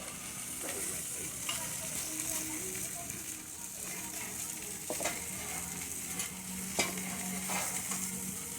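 Sauerkraut sizzling on a hot Blackstone griddle as it is scraped off, a steady hiss broken by several scraping clicks, with soft talk underneath.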